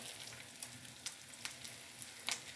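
Soft, steady sizzling of chicken frying in hot oil, with occasional sharper crackles and pops, fairly faint and without talk.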